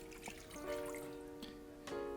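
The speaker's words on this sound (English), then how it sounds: "into a pot, we're going to be adding 200 milliliters of water" Water trickles and pours into a cooking pot, a soft steady liquid stream heard up close with faint splashy ripples throughout.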